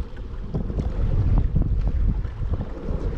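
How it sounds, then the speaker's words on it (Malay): Rough sea waves slap and churn around a fishing kayak off Melaka, a close, continuous wash of water mixed with buffeting wind noise on the microphone, with no talking. "Ombak kuat sangat alun."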